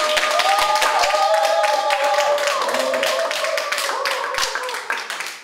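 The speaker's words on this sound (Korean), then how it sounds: "많은 박수 부탁드릴게요" Audience applause at a Korean company conference hall: a burst of clapping from a modest crowd that swells, then thins and tapers off, with a voice and tonal sounds running over the top.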